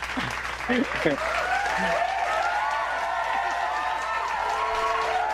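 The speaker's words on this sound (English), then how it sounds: "I want to have the show's first standing ovation" Standing ovation applause played as a sound effect during a live-streamed podcast, a crowd clapping and cheering under voices that talk over the start, with tonal whistle-like sweeps mixed in.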